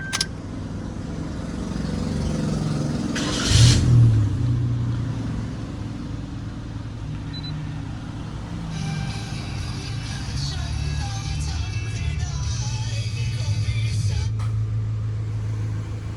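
A Suzuki Jimny's engine idles steadily up close, a low continuous rumble with a brief surge near the start and faint clicks later.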